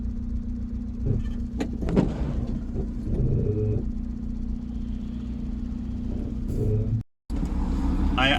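A VW TDI diesel engine idles in a T3 van, a steady low rumble with a constant hum and occasional clunks and rattles close by, briefly cutting out near the end before resuming.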